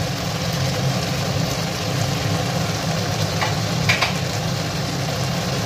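Spices with Kashmiri chilli powder fry in a pan, giving a steady, dense sizzle with light stirring scrapes, heard close and fairly loud without talk.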